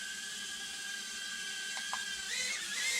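Tiny 67,000 RPM motors whine on a Triple R 58 model, a thin high-pitched steady whir that shifts pitch near the end as the speed changes, with no talk.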